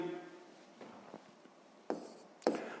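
Pen on paper writing out a sixth-grade math solution by hand, faint close scratching strokes with a few sharper taps, quiet and alone.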